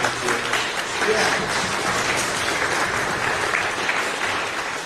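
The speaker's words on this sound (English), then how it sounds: "Give them a round of applause" An audience at a tax relief event applauds the volunteer organizers, a steady crowd wash of clapping mixed with voices and cheering throughout, moderately loud and fairly close.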